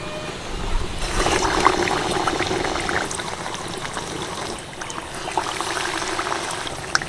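Battered chops sizzle in plenty of hot oil, a steady close frying hiss with crackling pops running throughout.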